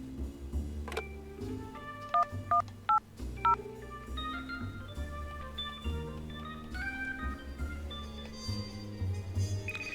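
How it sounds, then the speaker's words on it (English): A phone number being dialed in the Frog Detective video game, a run of short, clean keypad tones in a quick even rhythm over soft background music. "now basically we just need to phone this phone number for an achievement"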